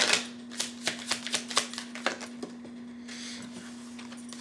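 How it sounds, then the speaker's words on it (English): Tarot cards are drawn one by one from a deck, giving a quick run of light, crisp flicks and taps up close, then softer sliding, quiet apart from a steady low hum. "Let me get some more cards out here."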